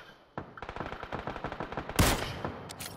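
Rapid automatic gunfire in PlayerUnknown's Battlegrounds, a fast burst of evenly spaced shots close and sharp, followed by a louder blast-like crack and a few trailing shots, with no talk.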